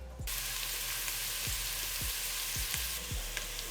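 Onions fry in a pot with a steady, dense sizzle, heard up close and continuous, while faint low thumps recur at regular intervals underneath.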